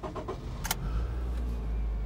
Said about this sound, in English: So let's start the engine like normal.